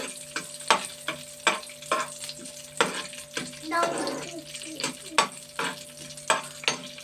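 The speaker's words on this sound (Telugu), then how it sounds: "ఇంతగానండి జీడిపప్పు తోటి వేపుతున్నాను. కిస్మిస్ కూడా వేపుతాను." Cashews and raisins frying in a pan, a soft crackling sizzle under regular sharp scrapes and clinks of a spoon stirring against the metal, close and moderately quiet.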